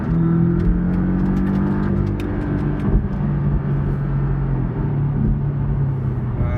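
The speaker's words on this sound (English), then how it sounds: "this is not sport mode, this is normal mode with exhaust loud" A Porsche 718 Cayman S engine drones loudly and steadily in third gear with a deep exhaust rumble in loud exhaust mode and a rising tone, heard from inside the car.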